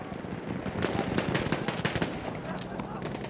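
Rapid bursts of machine gun fire in the World War I shooter Battlefield 1, loud and close with uneven rattling volleys, over a player's voice and battle noise.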